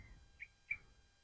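Two short, high chirps from a bird at a distance, spaced apart, over quiet low background rumble, in a lakeside park in Kuala Lumpur, Malaysia.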